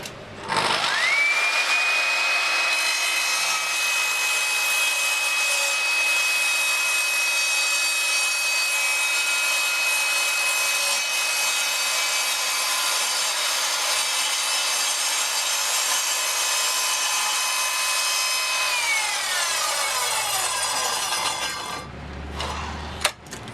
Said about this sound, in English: that seems to generate the best cut that I can get with this saw on this type of material.